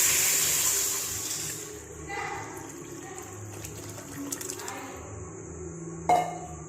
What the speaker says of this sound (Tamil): எண்ணெயில் போட்ட மசாலாலாம் நல்லா வதங்கினோன்னே நம்ம கரைச்சி வச்ச புளியை அதோட சேர்த்துக்கணும்